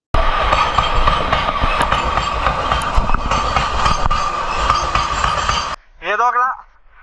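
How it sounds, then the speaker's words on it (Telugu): Train rumbles and clatters past close by on a railway track near Boddavara waterfalls, a loud, continuous rolling clack with wheel clinks, then cutting off abruptly before a voice speaks. "సడన్ గా ట్రైన్ అయితే వచ్చేసింది"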